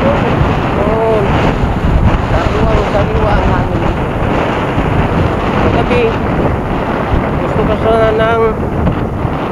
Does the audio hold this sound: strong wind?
yes